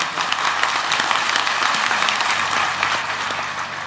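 An audience at a Hindu religious discourse claps loudly and continuously, a dense crowd applause that holds steady for several seconds.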